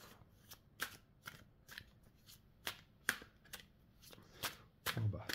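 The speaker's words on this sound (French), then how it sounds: "on va tirer encore 3 cartes pour" Tarot cards being shuffled and drawn by hand in a series of crisp, quiet riffling snaps and flicks, each brief and sharp, repeating irregularly; soft speech occurs in places.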